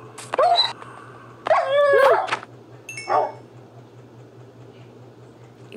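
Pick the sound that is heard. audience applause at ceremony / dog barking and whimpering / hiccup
dog barking and whimpering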